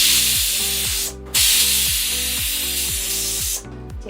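Pressure cooker full of mixed pav bhaji vegetables sends out a loud, steady steam hiss that runs almost the whole time, breaking off briefly twice, with a regular low rattling pulse underneath.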